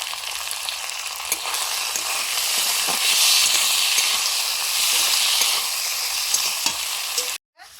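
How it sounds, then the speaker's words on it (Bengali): Eggplant with peas frying in a pan for a Bengali chorchori lunch dish, a steady loud sizzle with occasional stirring clicks running throughout before cutting off abruptly near the end. "বেগুনটা ভেজে নিচ্ছি"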